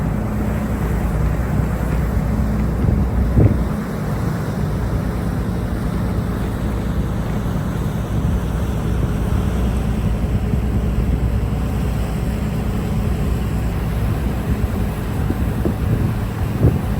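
A ferry crosses open sea from Bodrum, Turkey, toward Kos, Greece, giving a steady, loud low rumble of engine and water, with wind buffeting the microphone throughout and no pauses.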